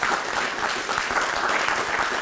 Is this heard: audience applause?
yes